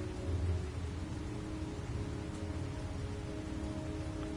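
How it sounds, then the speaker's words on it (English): Steady rain from the video game Heavy Rain hisses continuously, a dense even patter with a low rumbling undertone, no voices present. "It is always freaking raining."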